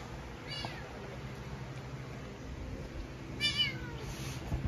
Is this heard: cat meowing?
yes